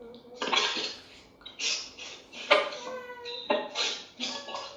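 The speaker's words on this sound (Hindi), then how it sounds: "डॉक्टर अजीत पानी अर्पण कर रहे हैं।" Water poured as an offering during a weekly class session in Indore, heard as several splashing, clattering pours in bursts, fairly close and moderately loud, with no talking.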